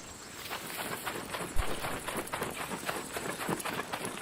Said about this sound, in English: I'm hearing footsteps behind me.